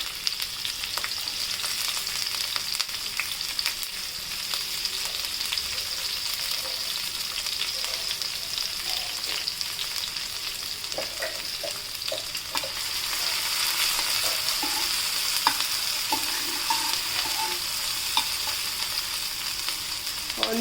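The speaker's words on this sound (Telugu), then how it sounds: "ఒక టూ ఆనియన్స్ మీడియం సైజ్వి చిన్న కట్ చేసుకొని అండ్ మూడు పచ్చిమిర్చి తీసుకొని వేసేసుకోండి" Chopped medium onions and green chillies fry in oil with spices, a continuous crackling sizzle that grows slightly louder partway through, with occasional spoon scrapes and clinks against the pan, close and with no talking.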